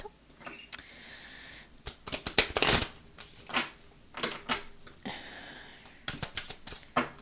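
A deck of tarot cards shuffled and cut by hand, bursts of quick papery riffles and flicks with irregular pauses between them, close and fairly soft, with no talking.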